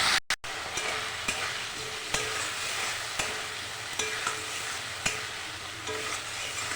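A ground paste of ginger, cumin, and green and red chilies with turmeric fries steadily in oil in a pan for a banana-flower ghonto, a constant close sizzle punctuated by regular scrapes of the spoon roughly once a second.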